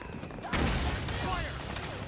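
Rapid bursts of gunfire in the video game Metal Gear Solid 4, fired by soldiers defending mansion grounds. A dense, loud fusillade breaks out about halfway through and carries on as a steady rattle, with shouting voices mixed in.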